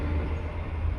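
A metro train at a metro station gives a brief, close, low rumbling roar with a steady mechanical hum.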